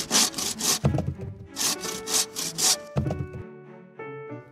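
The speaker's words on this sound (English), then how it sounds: "Now Ted saws off slice after slice." Several rhythmic saw strokes cut slices from a wooden log in a children's phonics story, with repeated back-and-forth rasping bursts close by, followed by lighter rubbing and a musical background tone.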